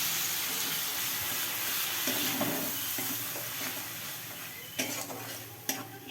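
Spice paste sizzling in hot mustard oil for a prawn malai curry, a steady close frying hiss with a few brief clinks and stirring scrapes toward the end.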